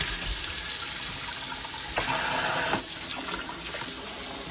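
A newly installed pull-out kitchen faucet runs water into a sink in a steady, close, even rush, with a couple of brief knocks.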